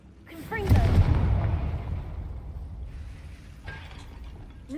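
A Confringo fire spell in Hogwarts Legacy lets off a sharp magical blast followed by a rumbling burst that fades away over a few seconds, with a softer crackling effect near the end.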